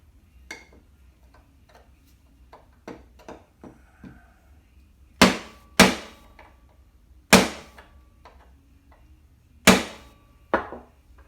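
A hammer knocks a wooden stock onto a Chinese Type 56 SKS rifle, starting with light scattered taps and building to five loud, sharp, close blows spaced irregularly.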